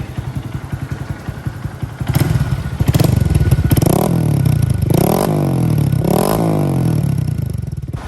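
A 2022 Honda Grom motorcycle with a new aftermarket exhaust idles with a rapid pulsing thump, then is revved in three or four sharp, loud blips that rise and fall, close up with no talking.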